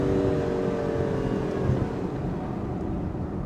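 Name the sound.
V12 sports car engine with exhaust pops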